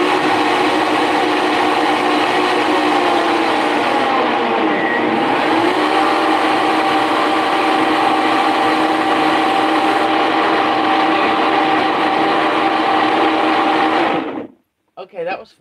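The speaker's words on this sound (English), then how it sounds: "Blender." A battery-powered kitchen blender runs loud and steady for about fourteen seconds, its dense whirring motor roar holding constant before cutting off abruptly near the end.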